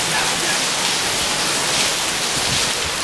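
Rain falls steadily outside at a Larimar resort in Punta Cana, a dense, loud, even hiss of drops with no breaks and no talk.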